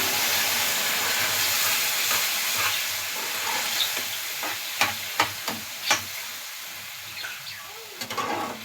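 Boiled mango pieces dropped into a pan over low gas, a soft steady sizzle with a few sharp clacks and stirring knocks of a utensil partway through.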